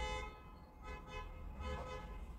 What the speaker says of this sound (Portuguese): Vamos buzinar.